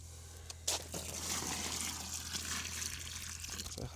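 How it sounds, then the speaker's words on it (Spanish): Water poured into a mix of sieved clay and fine sand for an earthen floor, a steady trickling and splashing pour that runs continuously at close range, with no talk over it. "Y ahora pues vamos a añadir el agua."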